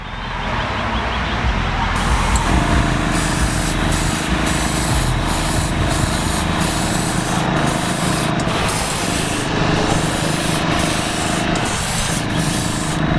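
An airbrush lays a wet clear coat onto a painted surface, giving a steady, close hiss of air and atomised spray that runs unbroken, with a few brief pauses and shifts in tone as the nozzle moves.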